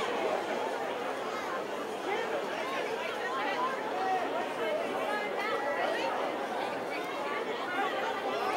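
Dense crowd chatter fills a nighttime street Christmas event in Vacaville, a steady wash of many overlapping voices and murmuring at moderate distance, with no single voice standing out.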